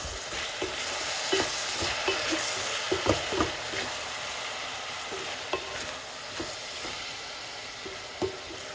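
Jamaican steamed callaloo being stirred in a sizzling pot, a steady frying hiss broken by scattered scraping and knocking strokes of the spoon against the pot, close and continuous, with no talking.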